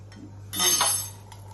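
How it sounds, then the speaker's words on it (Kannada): A plate clinks and scrapes against a pot as water is drained off cooked beans, one brief clattering burst with a faint pouring wash, no speech. "ಇದನ್ನ ಸ್ಟವ್ ಆಫ್ ಮಾಡಿ ಆ ನೀರನ್ನೆಲ್ಲ ಬಗ್ಗಿಸ್ಕೊಳ್ಬೇಕು"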